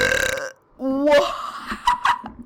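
A long drawn-out burp in a home bathtub, close and loud with a croaky, rising tone that runs about a second, followed by bathroom echo and short voiced bursts.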